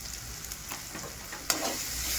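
Spice masala with turmeric and chili powder sizzles softly in a pan, with faint stirring scrapes and one sharper clink near the middle, no talking.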